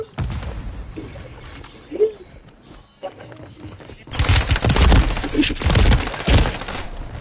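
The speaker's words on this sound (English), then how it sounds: "He's shooting at us." Gunfire from an enemy team in a video game comes in dense, loud bursts during the second half, over steady background game noise and with people talking.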